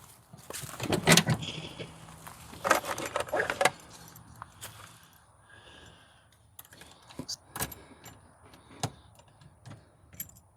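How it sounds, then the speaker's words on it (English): Keys jangle close by in several bursts as the switch is turned on in an old dually truck being revived after long disuse, with clicks and quieter rattles between. "the keys, turn the switch on."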